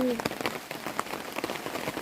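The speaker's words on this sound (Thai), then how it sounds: "ฝนตก บ่มานเลย ฝนตกมัน" Rain falling in a deep forest during the rainy season, a steady dense patter of drops hitting leaves and surfaces close by, with a faint voice briefly at the start.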